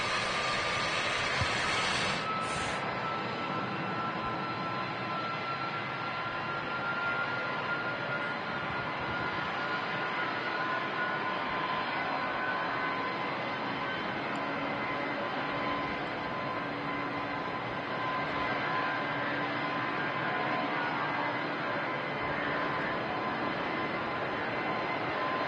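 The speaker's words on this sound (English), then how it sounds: "Engine spooling up on the Jet 275." Jet airliner engine spooling up at Manchester Airport, a steady distant roar and whine holding evenly throughout, faint and continuous with no voices.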